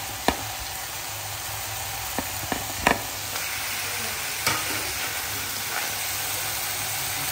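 Coriander, cumin and black pepper dry-frying in a pan, giving a steady soft sizzle with a few sharp scrapes and taps of the spatula, close and even throughout.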